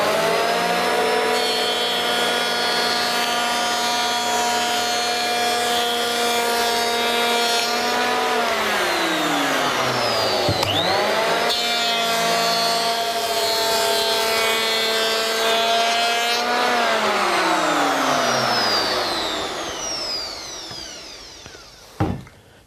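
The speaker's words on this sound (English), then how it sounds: "the most difficult part is holding the timber while you plane it" Power planer run at maximum depth of cut along a length of timber for a chicken coop build, a loud sustained motor whine that dips in pitch under load during two long passes, then spins down to silence.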